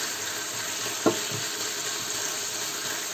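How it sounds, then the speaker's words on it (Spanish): Meat browning in hot oil in a pan sizzles steadily, with one sharp clink of a utensil partway through. "Voy a terminar de dorar la carne"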